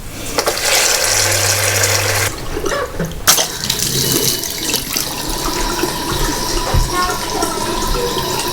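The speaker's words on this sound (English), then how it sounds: "There's a toilet filling out." A toilet cistern refills with water during plumbing work in a flat, a loud rushing hiss with a low tone that cuts off partway, followed by steadier running water and occasional clunks.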